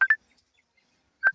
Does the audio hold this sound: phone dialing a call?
yes